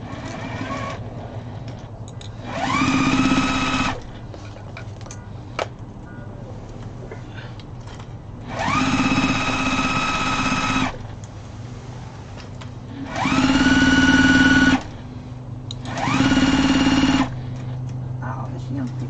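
A sewing machine stitches fabric placemats in four separate whirring bursts, each a few seconds long and rising quickly to a steady buzzing hum, with quieter gaps and faint talk between runs.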